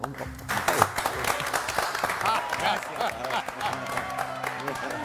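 A studio audience applauds steadily for about five seconds, a dense patter of many hands clapping at moderate loudness, with a voice speaking over it.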